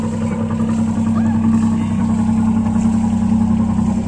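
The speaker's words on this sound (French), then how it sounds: "Écoutez le bruit du moteur, j'adore le bruit du moteur." A small boat motor chugging steadily nearby with a low, throbbing idle hum that holds constant throughout.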